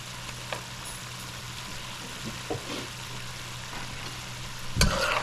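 Onions and garlic fry with a faint, steady sizzle in a pot of lamb pepperpot with cinnamon stick and clove, broken by a few soft scrapes and clinks of stirring and a louder scrape near the end.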